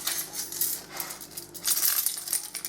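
Keys jingle on a key ring with bright, irregular metallic clinks and rattles throughout, close and fairly loud, no speech.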